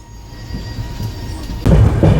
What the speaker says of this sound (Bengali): আচ্ছা আমাদের ট্রেন ছেড়ে দিয়েছে।